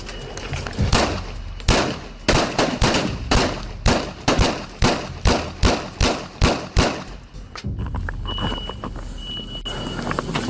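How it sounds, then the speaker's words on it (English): A rapid burst of police gunshots during a house raid, a dozen or so sharp cracks in quick succession, loud and close, then a lull with faint ringing. "his rampage was brought to an end by a storm of gunfire"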